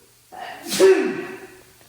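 A single sharp sneeze bursts out close by, preceded by a quick inhale, then fades quickly into quiet.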